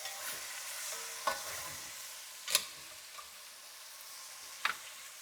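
Beef chunks brown in a hot pan for braised beef tacos, a soft steady sizzle broken by a few sharp scrapes and clinks of stirring, quiet and close with no speech.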